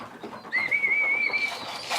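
Racing pigeons and fantails in a loft during trap training make a thin, sustained whistling call lasting about a second, over soft rustling and murmur close by.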